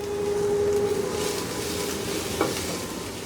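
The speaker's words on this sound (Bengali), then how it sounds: "ক্যাপসিকামটা দিয়ে একটু নাড়াচাড়া করে নেই, ক্যাপসিকামটা একটু নরম হয়ে যাওয়া পর্যন্ত" Capsicum frying in a pan while being stirred until soft, with salt added, a constant dense sizzle close by and a faint scrape from the spatula near the end.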